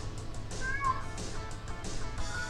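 A female house cat meows close by in a room during a live Formula 1 British Grand Prix review, one clear rising-falling meow over a steady low background hum, with no one speaking over it.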